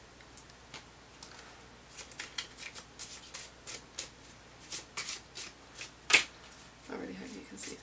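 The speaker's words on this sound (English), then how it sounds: "now I shuffle the deck" A deck of playing cards being shuffled on a table, with quick papery riffles and taps in irregular bursts, close but fairly quiet, and a brief voice near the end.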